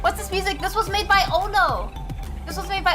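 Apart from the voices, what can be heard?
None of the usual background noises is heard.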